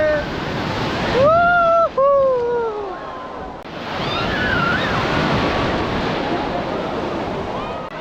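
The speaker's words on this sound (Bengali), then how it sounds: "বিশাল বড় ঢেউ আসছে" Heavy surf roars and crashes in a continuous wash of wind and water, with a few shouted voices rising over it early on, at the sea beach in Digha.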